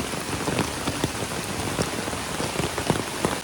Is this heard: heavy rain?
yes